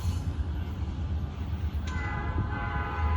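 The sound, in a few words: coal train with red locomotives passing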